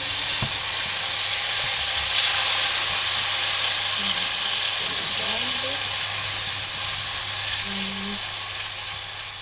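Chopped tomatoes sizzle and fry in a pan, a loud continuous hiss of steam and spitting close by, with a few faint clinks and bits of background noise.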